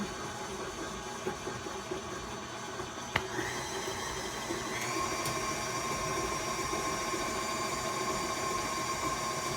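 Steady electric stand mixer whirring at a constant hum while powdered sugar is mixed into cake frosting, with a brief click and a slight rise in pitch partway through; no talking.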